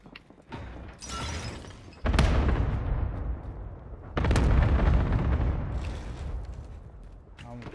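Cluster strike explosions in Call of Duty Warzone on Rebirth Island: heavy, rumbling blasts with two big booms that roll on and overlap, loud and close, over a constant crackle of battle noise.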